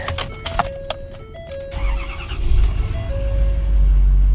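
A 2011 diesel 4x4 pickup truck with 273,000 miles cranking with chimes and clicks, then catching and settling into a loud, steady low idle.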